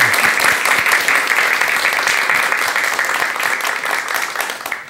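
Sustained audience applause at a lecture on married life, a dense steady wash of many hands clapping for the full stretch, loud and even before tapering slightly at the end.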